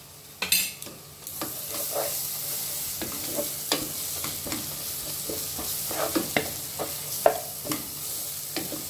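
Ginger-garlic paste sizzles with browning onions in a pot, a steady frying hiss broken by repeated scraping stirs and light clinks of a spoon.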